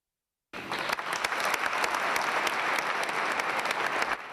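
Sustained, dense applause from an audience at the Totila d'Oro award ceremony in Treviso, steady and fairly loud throughout after a brief silent start, with no talk over it.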